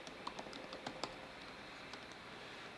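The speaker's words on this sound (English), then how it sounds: "let me type in my password for" A password being typed on a computer keyboard: a short run of light, quiet key clicks, irregular and close, bunched in the first second and then thinning out over faint background hiss.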